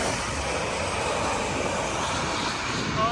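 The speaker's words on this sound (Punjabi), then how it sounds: "ਆ ਆ ਗਿਆ ਜਹਾਜ਼" An airplane passes overhead near a city street by the Teatro Colón in Argentina, its engine a steady, broad roar that fills the whole moment at an even, fairly loud level.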